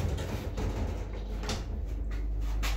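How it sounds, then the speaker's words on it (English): The exterior door of a pneumatic vacuum elevator slides open with soft scraping and a few muffled knocks over a low steady hum. "So it's got a dual door system, an interior and an exterior door."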